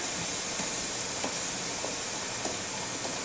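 Wax-based chain lube sprayed onto a new drive chain on a Honda CB450 motorcycle, a continuous close hiss with faint rhythmic pulses as the can is worked along the chain.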